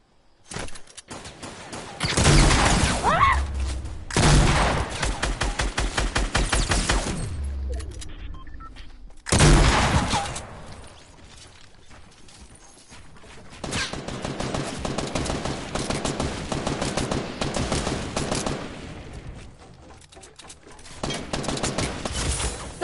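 Bursts of rapid automatic gunfire in Fortnite Battle Royale solo play, several loud volleys in quick succession separated by short pauses, with sustained rattling fire later on.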